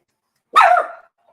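One sharp dog bark rings out close and loud, a short single yelp that ends abruptly and leaves silence.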